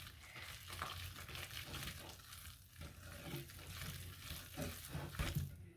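Dairy-free crêpe batter being mixed with butter in a bowl: a steady scraping and swishing of stirring that runs the whole time, with a low background hum and no voices.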